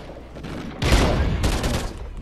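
Bursts of gunfire from Call of Duty: Ghosts gameplay, a loud rapid volley starting partway in and a second burst after, over a steady background of game noise.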